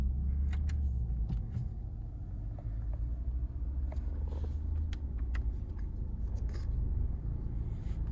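Opel Astra 1.8 petrol engine idling just after start-up, a steady low rumble heard close by, with a few faint clicks and taps over it and no talking.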